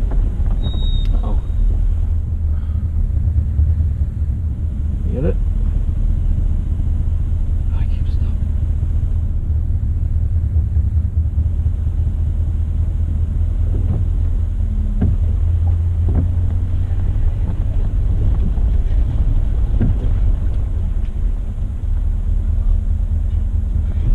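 An off-road vehicle engine rumbles steadily and close for the whole stretch, with the throttle working unevenly and wind buffeting the microphone, while people talk over it.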